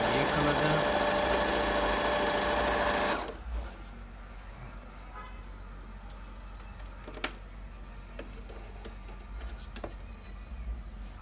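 Bernette Sew Go 7 sewing machine running a straight stitch: a loud, steady mechanical whir for about three seconds that then stops, leaving a quiet room with a few faint clicks.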